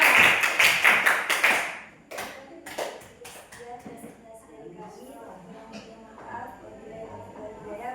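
A classroom of students bursts into brisk, loud applause for a presenting group, the clapping dense at first then thinning into scattered claps, followed by quiet murmuring voices.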